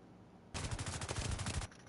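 Sniper gunfire from pop shot enemies in The Division 2 video game, a sudden loud burst of rapid, dense shots lasting about a second, standing alone after near-silence.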